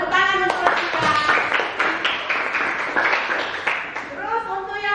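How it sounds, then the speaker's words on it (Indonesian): A small group of students in a classroom claps their hands in quick, uneven bursts for several seconds, with voices speaking over and around the clapping. "Tepuk tangan untuk Revia."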